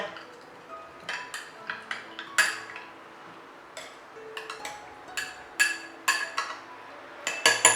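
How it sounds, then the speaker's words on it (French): A spoon stirring a thick juice mixture in a bowl, giving irregular clinks and scrapes against the bowl, some sharp and bright, spaced unevenly over several seconds with quiet gaps between. "Nous allons bien mélanger."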